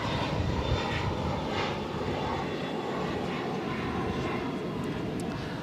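A Cessna Citation business jet at Boston Logan airport sends out a steady, loud broadband engine roar that holds for the whole stretch, with faint higher whines on top and no clear talk.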